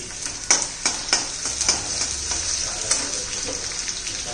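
A chopped onion sizzles steadily in hot oil with garlic for a Maharashtrian brinjal bharit, with close spoon scrapes and taps against the pan repeating through the continuous frying hiss.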